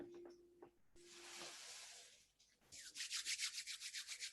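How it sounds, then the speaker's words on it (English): Hands rubbing briskly together during a guided breathing meditation, a soft dry swishing that first comes in one sustained stretch and then in quick rhythmic back-and-forth strokes, close and fairly quiet. "Start to rub your hands together"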